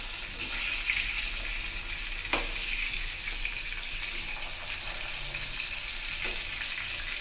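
Fish fries in hot oil in a pan, a steady, even sizzle with faint crackles and a couple of soft stirring knocks. No one speaks.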